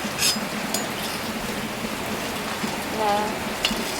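Steady crackling sizzle of papad frying in hot oil, continuous and close, with a few faint clinks.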